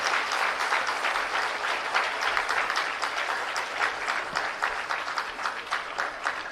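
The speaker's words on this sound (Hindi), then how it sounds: "आइए एक बार जोरदार तालियों से हम अभिवादन करें, अभिनंदन करें" Steady, dense applause from an audience at a Delhi government school inauguration, loud and sustained throughout with scattered individual claps standing out and no speech over it.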